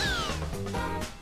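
A cat meows in the Katamari Damacy Reroll video game, one short, clear, fairly loud falling meow close up, standing alone.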